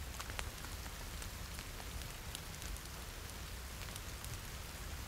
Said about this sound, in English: Just stop raining.